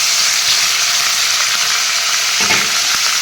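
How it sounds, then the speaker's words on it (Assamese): Chicken pieces tossed into a pan over browned onions and stirred as they fry, a loud, steady sizzle with occasional scraping knocks of the spoon, no voices. "মাংসখিনি দি এনেদৰে তল ওপৰ কৰি লৰাই দি দিম"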